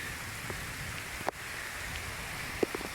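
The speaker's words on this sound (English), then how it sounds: "So you can see it's raining now, just a little bit." Light rain falling outdoors during a storm, a steady soft hiss of drops with a couple of brief close knocks or taps, fairly quiet and without speech.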